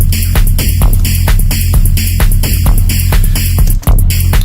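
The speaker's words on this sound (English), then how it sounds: "The kick is coming up a little bit. It's a bit more clean because there's a bit less reverb on the impact." Hard techno kick drum pounding in a steady four-on-the-floor pattern, loud and punchy with a fairly dry, clean impact and little reverb tail, playing alone.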